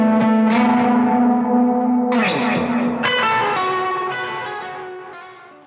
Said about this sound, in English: This is coming straight out of the amp and the pedals.